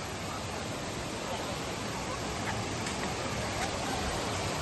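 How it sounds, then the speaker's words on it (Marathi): Broad, constant rushing of falling water at Bhivpuri Waterfall, loud and close, steady throughout with no pauses. "काय सुंदर धबधबा आहे"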